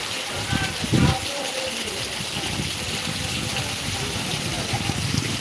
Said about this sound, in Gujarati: ધોધ માર વરસાદ પડી રહ્યો છે ભાઈ